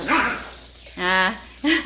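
A chihuahua and a puppy barking and playing indoors: a few short, high yips and barks come in quick separate bursts, close and fairly loud, with a person's voice briefly audible between them.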